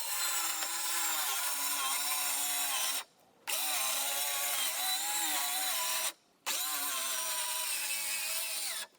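A power saw cuts three-quarter inch plywood in three long, steady passes, each a loud whining buzz broken by brief pauses, close by with no talking.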